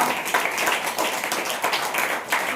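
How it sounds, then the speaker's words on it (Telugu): Congregation at a church service clapping together, a dense, steady burst of many hands filling the room throughout. "చప్పట్లు పెడదామా చప్పట్లు కొడదామా"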